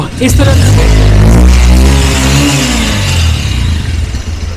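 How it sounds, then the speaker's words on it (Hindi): A Bajaj Avenger 160 Street cruiser motorcycle engine revs loudly up close, its exhaust note rising and holding steady before easing off slightly. "रेस देने पे देखते हैं क्या होता है"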